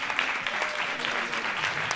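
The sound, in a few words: audience applauding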